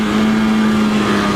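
A Yamaha Banshee 350 two-stroke ATV engine revs hard and steadily, a loud, close buzzing drone holding a high pitch throughout with no talk over it.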